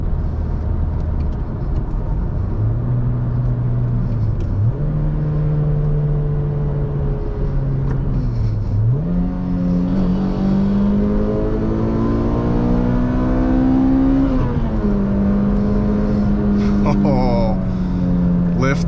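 A Toyota Corolla XRS engine, heard from inside the car on a spirited mountain drive, rises and falls in pitch through several gear changes, a steady droning hum that climbs under load, then settles.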